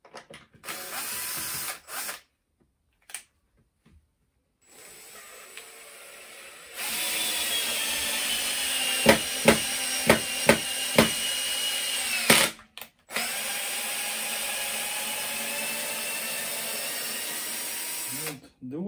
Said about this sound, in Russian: Вот девольтом тяжко ему заходить на большой скорости.